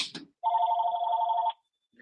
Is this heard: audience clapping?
no